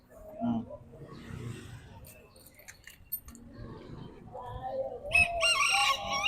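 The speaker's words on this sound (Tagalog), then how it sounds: "Ayan, mga bantam. Ganda ng manok, oh." A rooster crows amid a busy Divisoria market in Manila, with clucking bantam chickens, metallic jangling and people talking nearby.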